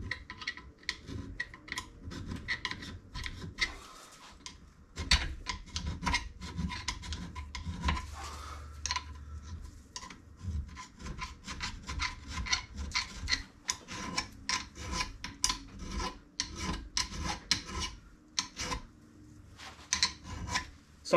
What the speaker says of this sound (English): just go round with a very fine file and just make sure there's no sharp edges on there